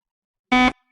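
A single loud, harsh electronic buzzer blares for about a quarter second after silence, then cuts off abruptly.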